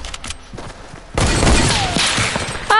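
Loud hunting rifle fire in a Fortnite solo match: a heavy blast erupts partway through and rolls into sustained explosive noise, with no talking.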